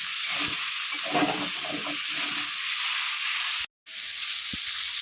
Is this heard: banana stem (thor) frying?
yes